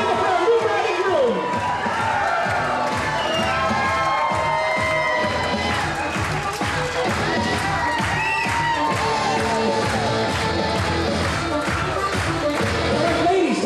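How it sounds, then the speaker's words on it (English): Wedding reception crowd at the Newport Marriott cheering and applauding the new bride and groom, a loud sustained roar of claps and shouts with music and voices mixed in throughout. "Nice round of applause for them, folks"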